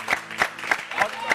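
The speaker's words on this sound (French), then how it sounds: "Applaudissements pour lui." An audience at a talk show applauds for Rodney, with claps swelling in a few quick bursts at moderate loudness.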